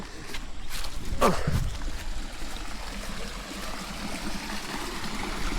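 A stream flowing along a trail near Lakshmi Estate in Munnar, a steady broadband wash of running water that holds constant throughout, with a brief faint voice early on.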